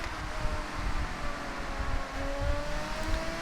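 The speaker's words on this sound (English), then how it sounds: "the Murcielago screams as well" A Lamborghini Murcielago engine in Forza Horizon 6 drones steadily with a broad, rumbling roar and rising harmonic tones of gentle acceleration, carried under airy wind-like noise at moderate loudness with no talk.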